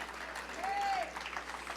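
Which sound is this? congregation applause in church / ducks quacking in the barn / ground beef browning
congregation applause in church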